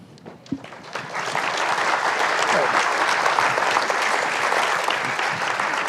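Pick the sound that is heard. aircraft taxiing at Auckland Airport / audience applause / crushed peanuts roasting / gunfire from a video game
audience applause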